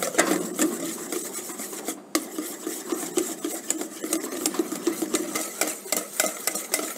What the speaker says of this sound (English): Now the mixture is getting thicker and thicker. Keep whisking.